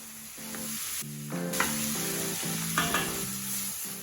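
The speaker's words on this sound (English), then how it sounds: "Give it a good toss on your vegetables to mix all the flavor." Water spinach and tomatoes tossed in a hot pan for a Filipino gising-gising dish with tofu, giving a constant loud sizzle with repeated scraping, clanking stir-fry strokes close up and no talking.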